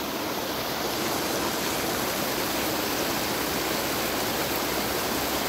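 Rainwater pouring into a mosque courtyard after morning rain, a steady broadband rushing of flowing water, continuous and even, fairly close with no speech.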